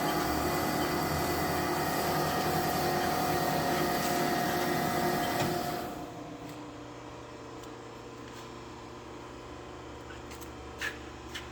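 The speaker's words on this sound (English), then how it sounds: "I'm gonna go back to auto mode and I'm gonna unbypass the front guard. Machine's running." A rebuilt AE50050 machine runs in auto mode, with a loud, steady broadband mechanical roar for about six seconds that then settles into a quieter constant hum broken by occasional faint clicks.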